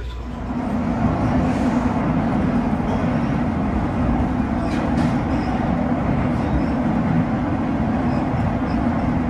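Steady rumbling roar of a metro train in motion near Doraville station, Atlanta, on an old line, a continuous low drone with faint rattles throughout, no voices.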